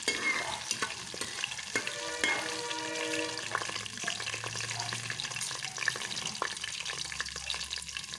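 Pepper and cumin crackle and sizzle in a hot pan while cooking Ven Pongal, a steady close frying hiss with scattered pops and light stirring scrapes, no talking.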